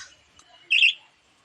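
Pet birds call noisily, waiting for late food: a few faint chirps followed by one short, loud, close squawk.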